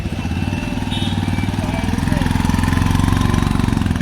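A motorcycle engine running at a police checkpoint on a road, a loud, close, rapid throbbing idle that rises slightly in intensity, with faint voices in the background.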